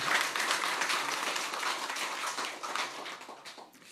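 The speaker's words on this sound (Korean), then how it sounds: "오늘 수고한 성가들 격려 박수하겠습니다" A church congregation applauds the choir during a Sunday worship service, a dense patter of many hands that stays steady and then gradually thins and fades toward the end.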